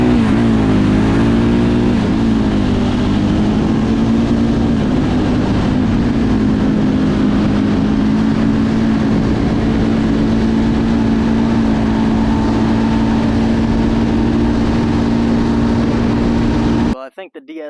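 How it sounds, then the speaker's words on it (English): A Bombardier DS650 Baja quad's engine roars at full throttle on a top speed run, with a loud, sustained drone whose pitch climbs early and then holds steady, wind buffeting throughout before it cuts out at the end. "Alright, so you want to know how fast the Bombardier DS650 Baja is?"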